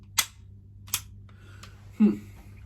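A pistol's trigger clicks during dry fire practice: three sharp, close snaps about a second apart, the last one heavier and more metallic, in an otherwise quiet room with no talking.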